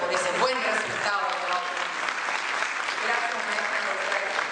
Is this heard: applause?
yes